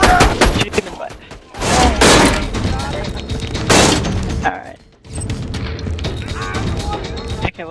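Borderlands 2 gunfire on Xbox 360: bursts of shots and game effects crowd the mix, with loud surges near two and four seconds, while players talk over the action throughout.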